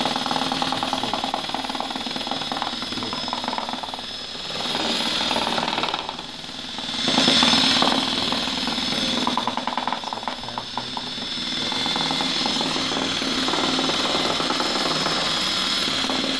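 A power drill whirs loudly and continuously nearby, with a rattling, grinding edge and a brief change in pitch partway through.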